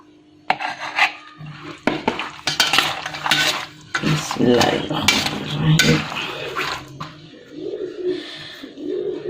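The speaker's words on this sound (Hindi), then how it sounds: "बड़े आराम से चम्मच के साथ मिक्स करना है" A spoon mixing boiled potatoes and chickpeas with yogurt and tamarind in a bowl, giving a series of close metallic scrapes and clinks in uneven bursts, with some quiet background noise between strokes.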